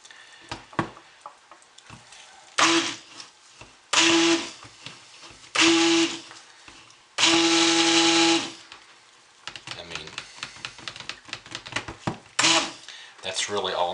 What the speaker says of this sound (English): very quick blast of the stick blender